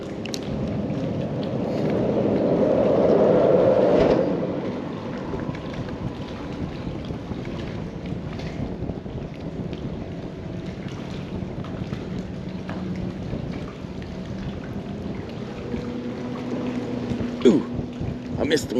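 Strong wind gusts buffet outdoors at the water while fishing, a loud rushing roar peaking early and then settling into a steady, blustery wash with occasional knocks.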